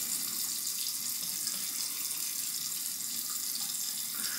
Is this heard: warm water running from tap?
yes